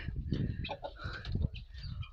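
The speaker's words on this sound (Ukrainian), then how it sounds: "найперші, хто хотіли вилетіти, це голуби" A flurry of farmyard birds being let out of a barn: pigeons flapping and cooing among clucking fowl, busy and close, with overlapping calls throughout.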